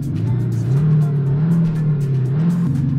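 A car fitted with a universal active exhaust system revs in a low, throaty drone whose pitch rises and falls through a couple of swells, loud and close with a steady rumble and no talk.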